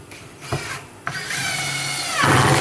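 A power drill whirs in short bursts, then runs steadily and rises in pitch as a drywall screw is driven in while installing kitchen cabinets, loud and close.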